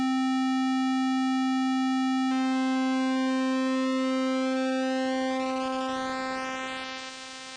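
A Korg MonoPoly synthesizer rack extension holds one steady, buzzy tone whose pulse width is gradually narrowed, so its harmonics shift and thin out and it grows slightly quieter toward the end.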